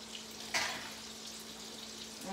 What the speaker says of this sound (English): We'll go ahead and drain my pasta now so we'll stop cooking.